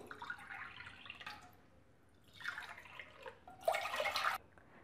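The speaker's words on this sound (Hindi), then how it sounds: "यहाँ पे मैं चार कप पानी डाल रही हूँ" Four cups of water are poured in three separate bursts, splashing into a pan on a gas stove, the last pour louder and closer than the first two.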